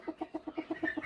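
A hen clucks in a chicken coop, giving about nine evenly spaced, close, fairly loud clucks in a quick steady rhythm with no other sound.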